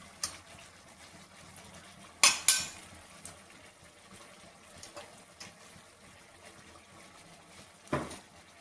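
Chicken biryani with biryani masala stirred in a pan, with a few sharp metallic scrapes and clinks of a spoon over a faint background hiss, no talking.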